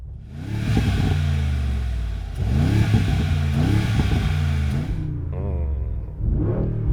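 Mercedes-AMG G63 V8 revving loudly in several repeated blips, each climbing and falling, with a deep rumbling idle between and a shorter final rev, close and alone.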